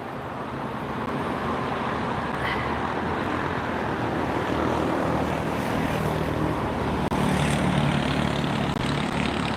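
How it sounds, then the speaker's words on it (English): An Air France widebody airliner arrives at LAX with a steady, loud, broadband jet roar that swells slightly near the end. "There's the Air France that just came in"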